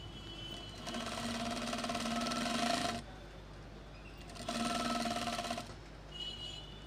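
A sewing machine stitches a double-welt back pocket in two short, fairly quiet runs of steady whirring, separated by a pause and followed by a faint brief tap.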